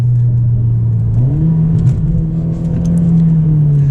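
A Mercedes CLA 45 AMG engine heard from inside the car while driving, a loud steady drone that rises in pitch as the revs climb and then holds, with no talking.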